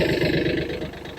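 A Yanmar F215 tractor's diesel engine, started without glow plugs, runs steadily close by with an even low rumble and no voices.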